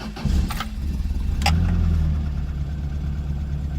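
A car engine with a faulty cold start injector, helped by starting fluid sprayed into a vacuum line, cranks briefly, then catches and settles into a loud, steady idle close by.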